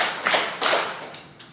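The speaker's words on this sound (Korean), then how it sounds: "잘했다는 박수로 3번만." A church congregation claps three times in unison, three short group bursts of applause that fade quickly, with no talk over them.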